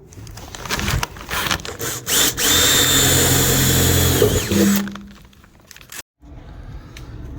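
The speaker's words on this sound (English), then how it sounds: "I'm going to drill from underneath, see if I can get there." A power drill whirs steadily for several seconds, rising and bogging slightly as it bites, then stops, leaving a quieter background hum.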